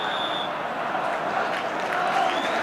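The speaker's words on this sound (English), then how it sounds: "And the applause still ringing round the ground for West Ham's last attack." A packed football ground crowd applauds and murmurs during a 1984 West Ham versus Arsenal match, a dense, steady wash of distant clapping and roar with no single claps standing out.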